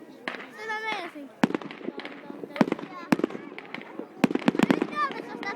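New Year fireworks over Vaasa, Finland, with sharp, loud bangs and crackling bursts scattered irregularly across the scene while people talk and exclaim throughout.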